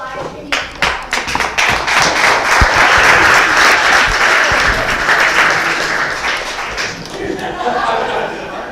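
A crowd at a community event breaks into applause, starting with a few loud, close individual claps that swell into dense, full clapping, then thin out as voices and chatter rise near the end.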